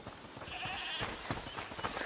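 Goat bleating in the video game A Plague Tale: Requiem, a few short wavering cries over a busy game soundscape at moderate level.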